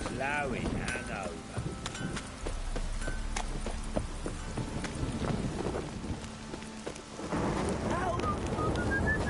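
Steady rain falls in The Witcher 3 game world, a constant wash of hiss filling the whole scene, with other game effects and voices mixed in over it.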